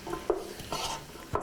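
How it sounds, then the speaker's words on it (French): Glass noodles being stirred in a pan for a chayote dish: three distinct scraping strokes of a utensil against the pan spaced about half a second apart, with faint sizzling between them and no talking. "Je mélange."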